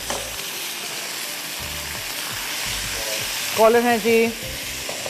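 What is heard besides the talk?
garlic and mustard paste frying in a pan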